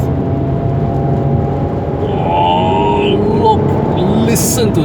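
Engine of a 2018 Mercedes-AMG C 43 sedan, its large-capacity motor droning and building in revs, a steady loud hum with rising harmonics partway through, with no talk over it.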